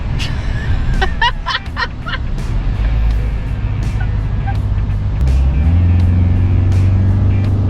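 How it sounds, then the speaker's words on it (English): A tuned Isuzu 4JJ3 diesel four-wheel drive accelerates hard, its engine droning loudly from inside the cabin and rising in pitch near the end, with a few brief chirping squeaks early on. "How can a 4-wheel drive be that bloody fast?"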